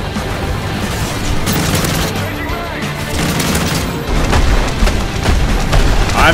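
Explosions and gunfire fill a video game battle with continuous dense rattling and booms that swell louder near the end.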